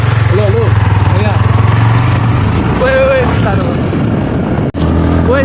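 Steady low engine drone from a motorbike carrying a passenger on a ride with a friend, running continuously under voices talking close by.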